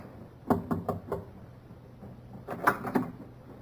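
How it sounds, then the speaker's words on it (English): Two bursts of knuckle knocks on a cabin door aboard a ship in an old radio drama, four close raps followed by a pause and then three more, crisp and alone. "The captain knocked."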